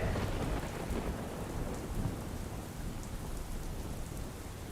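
Heavy rain pouring over Vijapur in Mehsana, a dense, continuous hiss and roar of downpour on surfaces, loud and unbroken throughout with low rumbling beneath.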